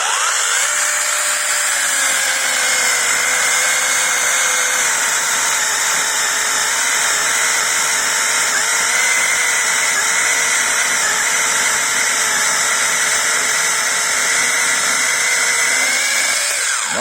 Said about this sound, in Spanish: aquí tenemos otro pedazo de tocho que estamos cortando con esta pequeña motosierra eléctrica a baterías